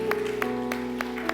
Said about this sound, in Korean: 우리가 서로가 서로에게 사랑의 마음을 담아 감사의 박수를 함께 전할까요?